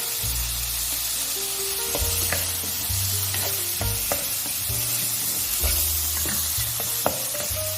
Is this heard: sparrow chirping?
no